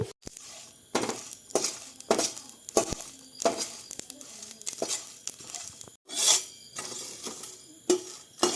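Whole spices (black pepper, cumin, coriander, dried chillies and bay leaf) are dry-roasted and stirred in a pan, making repeated close, rasping scrapes and light rattles in a steady rhythm of strokes, with no speech.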